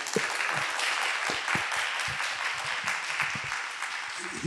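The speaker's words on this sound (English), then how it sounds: "let's have a round of applause for Barton Scott." An audience at a lecture applauds, its dense, steady clapping sustained throughout at moderate volume, with no voices.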